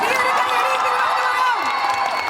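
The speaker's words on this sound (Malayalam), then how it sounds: "അപ്പൊ അതുകൊണ്ട് വലിയൊരു കയ്യടി ഇവിടുന്ന് തരണം." An audience at a film promotion event applauding and cheering, a loud, sustained wash of clapping mixed with voices and whoops throughout.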